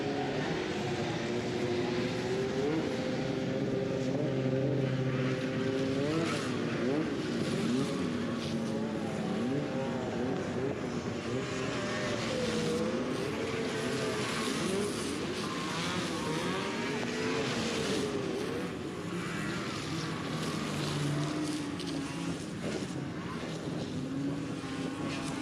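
Race cars circle a high-banked track during a main event run under green flag conditions, a steady roar of several engines that rises and falls as they pass, continuous and fairly distant.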